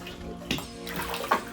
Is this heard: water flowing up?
yes